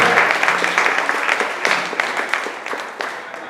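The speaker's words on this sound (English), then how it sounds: "Another round of applause from Medina." Crowd at a storytelling slam event bursts into sustained applause, a broad wash of many hands clapping that gradually tapers off.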